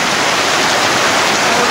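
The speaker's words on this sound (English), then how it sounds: "The rain is actually blowing right through my umbrella and hitting me on the head." Heavy wind-driven rain in Panama hammers an umbrella close overhead, a dense, loud, unbroken hiss with no distinct pauses.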